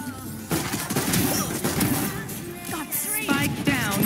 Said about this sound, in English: Bomb grenade out.